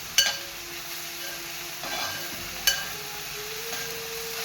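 Egg and thazhuthama (hogweed) thoran being stirred in a pan with a soft sizzle, with a couple of sharp clinks of the spoon against the pan.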